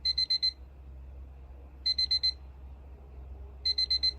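A QCY MeloBuds Pro earbud's Find My Headset alert repeats in bursts of four quick high beeps, three groups spaced about two seconds apart, fairly quiet over a low steady hum.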